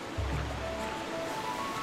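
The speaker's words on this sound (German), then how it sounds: "Kommt hier auch noch Wasser von oben, toll." Water rushing around a canoe during a ride in Zelda: Twilight Princess, a constant wash of splashing flow with a brief low rumble near the start.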